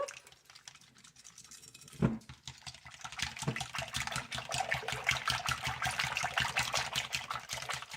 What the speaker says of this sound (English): and a teaspoon of onion powder and a teaspoon of garlic powder. Whisk this up.